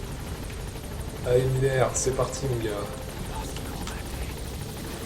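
Helicopter rotor drone in the video game Metal Gear Solid V: The Phantom Pain, a steady mid-level whir running the whole time beneath someone talking.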